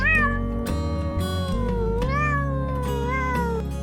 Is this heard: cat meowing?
yes